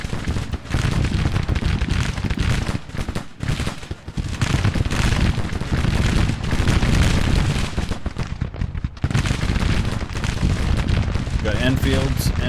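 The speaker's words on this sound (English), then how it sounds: "Let's see if we can get our cav firing on his flank here." Dense, continuous battle din from Grand Tactician: the Civil War, with rolling musket volleys and booms as cavalry fire into an enemy flank, loud and unbroken throughout.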